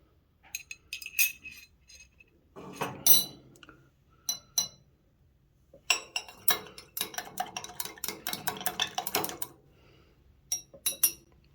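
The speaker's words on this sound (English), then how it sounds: "I'm going to stir these up" Fuel samples stirred in small glass containers, giving a series of clinking and tapping glass sounds in irregular bursts with short pauses, close and fairly clear, no talking.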